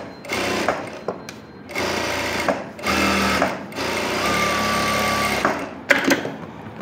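A sewing machine runs along the edge of an umbrella frock in four or five separate bursts of rapid, close, whirring stitching, with short quiet gaps between runs.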